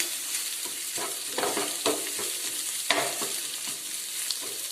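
Food stirred while frying in a pan over a medium flame during Kerala-style cooking: a steady sizzle under repeated scraping strokes of a spoon against the pan, close and moderately loud, with no talk.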